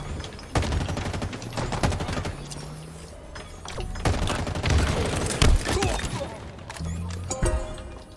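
Dense gunfire from a Halo Infinite multiplayer match, with rapid bursts and sharp shots cracking over a loud, busy battle mix that stays intense for the whole stretch.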